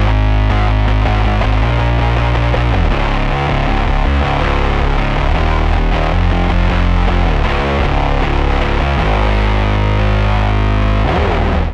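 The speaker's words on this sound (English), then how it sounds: "here's what it sounds like with the microsynth" A bass played through a microsynth effect on a Line 6 Helix produces a loud, buzzy, synth-like line with steady note changes that continues unbroken throughout.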